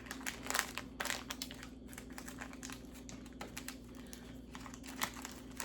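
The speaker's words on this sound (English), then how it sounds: "So we're gonna be shoving that in an envelope." Paper cash bills being shoved into an envelope, producing soft continuous crinkling and rustling with small clicks, close and quiet throughout.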